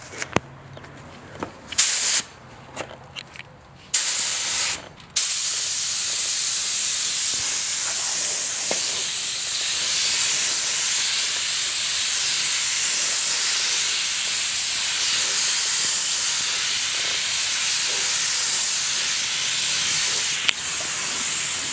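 Clear coat sprayed from a can or gun onto a Toyota Tacoma bumper in a home setting: a steady, close, continuous hiss that runs unbroken for most of the stretch after a few short bursts at the start, with no talking.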